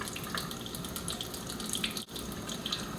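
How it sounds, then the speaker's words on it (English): Tap water runs steadily into a sink while a makeup brush is rinsed clear of soap and olive oil, a constant splashing hiss with one brief dip partway through. "go ahead and run it under the water and just make sure you get all of that soap and oil out of the hairs"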